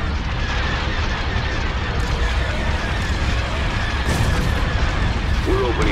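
Spaceship weapons firing in the space battles of Star Wars: Empire at War, a continuous roar of booming shots and blasts layered over each other, loud and steady, with a voice talking over the battle.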